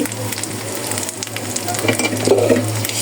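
Water lily stems frying with green chillies and onion in a pan, a steady close sizzle with occasional stirring scrapes and crackles, no talk.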